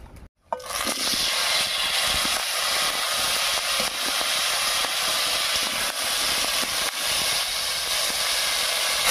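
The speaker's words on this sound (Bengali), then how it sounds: "এবার এর মধ্যে দেবো কেটে রাখা আলু আর ব্রকলি।" Cut potatoes and broccoli hit hot oil already tempered with whole garam masala, cumin and dried chillies: after a brief silence a loud, steady hissing sizzle starts abruptly and holds evenly, close and alone.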